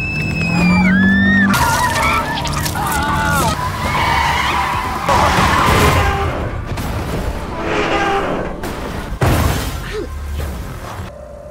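A film car crash: tires skid and screech, then a loud jumble of impacts, shattering glass and crunching metal, with brief voices around the chaos.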